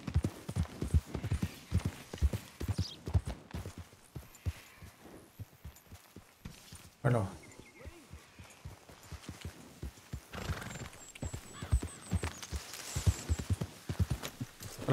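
A horse in Red Dead Redemption 2 gallops with steady, rapid hoof clops, whinnying sharply around the middle and again near the end, with faint game ambience behind it.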